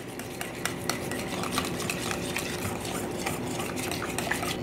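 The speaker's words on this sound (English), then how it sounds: "And now add in your pumpkin. And just give this a mix." A utensil stirs maple syrup, eggs and pumpkin together in a bowl with a steady, close scraping and clinking, continuous and with no talking.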